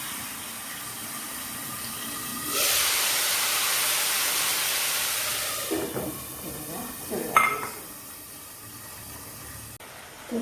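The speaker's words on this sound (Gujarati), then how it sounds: "હવે આપણે એમાં આપણે લસણવાળી ચટણીનું પેસ્ટ બનાવી છે એ વઘારશું." Garlic chutney paste hits a pan of cooked onions for a Gujarati kaju gathiya curry, bursting into a loud broadband sizzle that holds steady for several seconds, then fades into scattered clatters and scraping from stirring.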